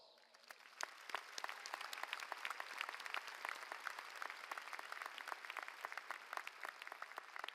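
Audience at a Class of 2022 baccalaureate commencement applauds graduates and their supporters, a dense, steady wash of many hands clapping throughout, moderately distant and even.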